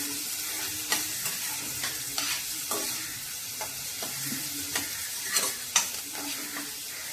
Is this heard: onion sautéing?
yes